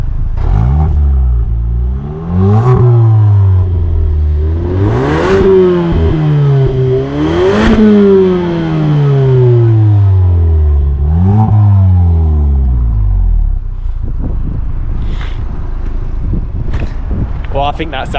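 A 2024 Ford Focus ST Edition engine revs repeatedly, its pitch climbing and falling in several loud sweeps, then settles into a rough idle with clatter and wind noise.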